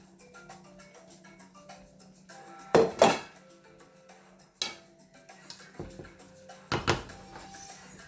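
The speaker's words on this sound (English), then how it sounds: "I'm going to go ahead and add my eggplant in here." Eggplant goes into a pot for a stew with a few loud clanks and scrapes of a utensil against the metal, spaced out over a quiet, faintly humming kitchen, with no talk.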